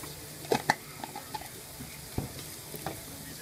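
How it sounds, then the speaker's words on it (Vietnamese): Seasoned shrimp filling for bánh bột lọc is tossed in a frying pan over a quiet, steady sizzle, punctuated by scattered clacks and scrapes of a spatula against the pan. "Mình cho vào cho các bạn đảo đi."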